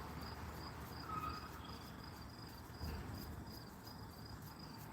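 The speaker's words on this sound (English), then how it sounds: "You hear crickets?" Crickets chirping outdoors just beyond a window, a faint, steady pulsing trill repeating evenly throughout against a quiet background.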